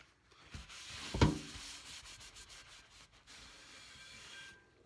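Excess oil being wiped off a Lodge cast iron during seasoning: a quiet, continuous rubbing and scrubbing with one sharper scrape near the start, otherwise soft and steady.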